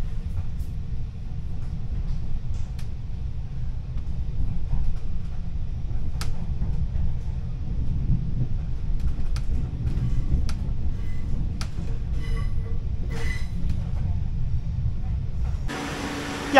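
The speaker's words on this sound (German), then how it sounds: "Und auch das so ein Intercity, wie wir auf der Hinreise nach Savona hatten." Onboard an Italian Intercity train with power cars at both ends, a steady low rumble and hiss of the running train fills the scene with faint clicks, ending in a brief louder burst.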